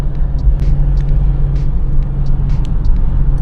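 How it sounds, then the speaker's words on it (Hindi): A steady low rumble of a car driving along a coastal road near Rameshwaram, with beaches on both sides, heard from inside as a continuous engine and road drone with faint higher ticks. "इधर गाड़ी चला रहा हूँ"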